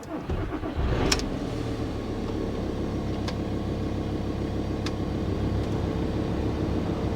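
A VW T5 Transporter's heater fan, just repaired after blowing its fuse, whirs steadily inside the van with the engine idling underneath, a couple of faint clicks along the way and no talking.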